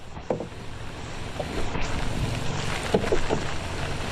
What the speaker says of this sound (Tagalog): Hirap na magmanebra ng ano, plastada ng bangka pag ganitong hangin.